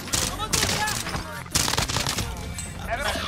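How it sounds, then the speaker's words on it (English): Rapid bursts of automatic gunfire and explosions from a Call of Duty match on Rebirth Island, firing loud and dense in repeated volleys with a brief lull near the middle, with voices talking over the battle. "Taking fire here. Under fire!"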